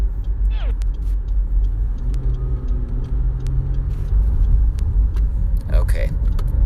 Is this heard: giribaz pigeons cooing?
no